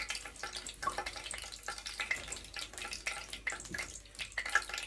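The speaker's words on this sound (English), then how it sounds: "So you can wash your hand pen anytime you wait for your oil. So my hands are washed." Hands washed under a running kitchen tap while waiting for oil to heat for Nigerian puff-puff; a steady, close splashing stream with small drips and handling sounds, no talking.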